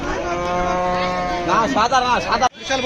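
A cow at a pre-Eid cattle market in Hazratpur lets out a long, loud, drawn-out moo close by, followed by a few shorter wavering calls and a brief pause.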